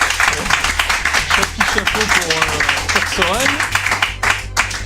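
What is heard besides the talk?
audience applauding a Contra III superplay run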